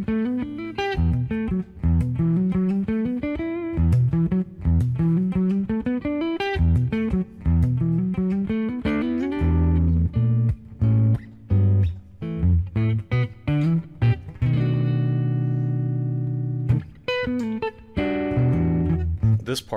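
A guitar run through effects plays a winding melodic line of plucked, sustained notes, some bent and distorted, with swelling chords and pauses, close and clear throughout.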